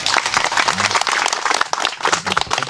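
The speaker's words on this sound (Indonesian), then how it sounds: "Tepuk tangan buat ibu-ibu dulu." A crowd of people clapping at a gathering in Indonesia, loud, close, dense applause with a few voices murmuring underneath.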